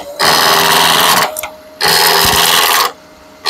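A lathe turning a workpiece while its corners are cut off, loud whirring and cutting noise in two sustained bursts separated by a brief drop.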